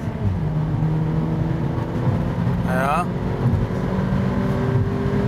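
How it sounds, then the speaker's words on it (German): Mercedes-AMG A45 engine pulled to higher revs while driving, a steady engine drone heard from inside the car with a brief rising whine partway through, as someone talks over it. "Den Motor mal ein bisschen höher drehen."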